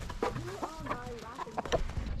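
Farm chickens clucking close by during fall chores, a busy run of short, overlapping clucks and squawks from several birds, fairly loud and with no talk over them.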